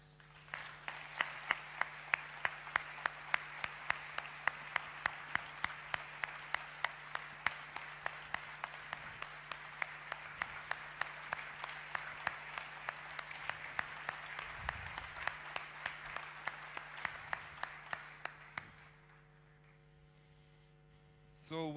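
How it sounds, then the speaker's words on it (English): An audience at a keynote claps steadily for the speakers, a dense run of even, crisp claps over a faint mains hum that stops abruptly near the end. "please give them a warm applause."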